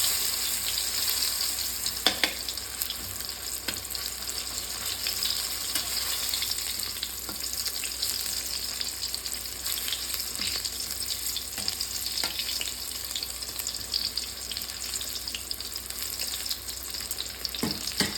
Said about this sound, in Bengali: তো এইভাবে করে সকল মোচাগুলো ভাজা করে নেব।